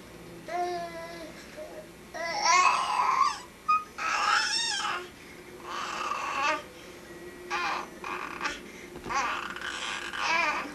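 A toddler babbles a short, high, sing-song phrase in repeated bursts, close and fairly loud, with brief pauses between the vocal runs and no adult speech.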